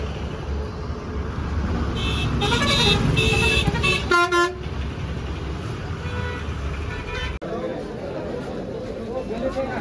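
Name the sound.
continuous vehicle traffic with honking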